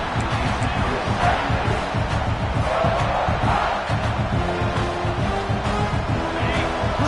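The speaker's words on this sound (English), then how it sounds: "Listen to the crowd energy here in the early going." A big stadium crowd roars steadily throughout, loud and dense, at a football game, with broadcast-style background chatter mixed in.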